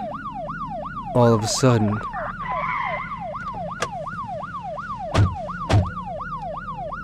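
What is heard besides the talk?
ambulance and police sirens approaching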